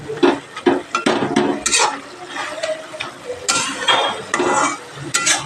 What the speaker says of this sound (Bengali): এখানে আলুগুলো একটু এইভাবে খুন্তির কানা দিয়ে একটু ভেজে দেবে